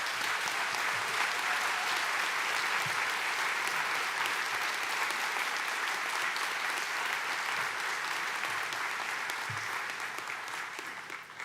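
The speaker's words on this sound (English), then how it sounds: "Let's give her a round of applause." A commencement audience at a university graduate ceremony breaks into sustained, broad applause, many hands clapping evenly for over ten seconds before it starts to taper off at the end.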